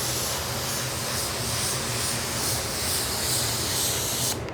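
A Luma 3 13 OP base gun sprays a pearl white base coat blend on a car panel, producing a loud, steady, close hiss of atomized paint that cuts off at the end, with no voices.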